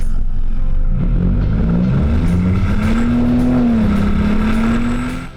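A three-cylinder car engine runs and revs with a slightly raspy, uneven character, rising in pitch over several seconds and staying loud and close before easing off at the end.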